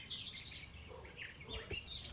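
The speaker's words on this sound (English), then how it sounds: "Listen to those birds." Outdoor birdsong near an old house in Brooklyn, Mississippi, with big trees around: several birds chirp and tweet continuously at moderate distance over a soft background hiss, no voices present.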